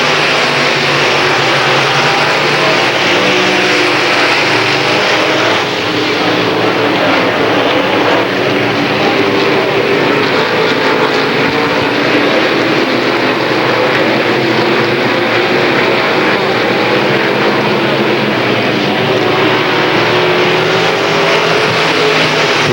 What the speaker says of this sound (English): Bill Yakin pulling away in car 10